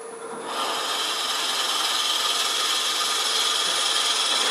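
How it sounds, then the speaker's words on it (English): A large bit bores into soft poplar wood at a slow speed of about 600 rpm, held in a Jacob's chuck; a steady, loud, rasping grind starts after a brief moment of quiet and continues unbroken to the end, with no talk. "we're going to drill at a pretty slow speed. This poplar is pretty soft wood, but that's a pretty good size bit"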